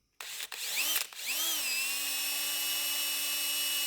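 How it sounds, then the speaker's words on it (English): A power drill revs up twice in short bursts, then settles into a steady, high whine as it bores continuously through material with a dull drill bit. "You don't want to drive that drill bit all the way through there"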